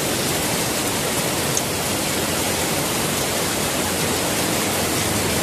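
A heavy downpour continues as a dense, unbroken roar of falling rain, loud and close throughout, with no voices.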